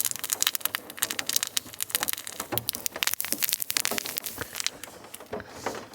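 A plush squirrel dog toy with a crinkly tail is squeezed and handled, giving a dense, close run of crackling, rustling crinkles that continues in irregular bursts.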